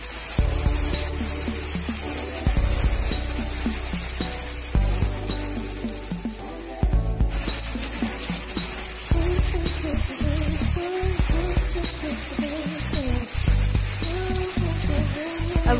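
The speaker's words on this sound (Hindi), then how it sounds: "उसी तेल में मैं सरसों या राई, सूखी लाल मिर्च और करी पत्ता का छौंका लगा दूंगी" Mustard seeds, dried red chillies and curry leaves crackle and spatter in hot oil, a close, busy sizzle full of quick pops that surges and eases in bursts.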